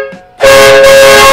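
An aftermarket air train horn fitted to a 2003-07 Honda Accord bursts on after a short quiet moment, a very loud, sustained steady blast held close by.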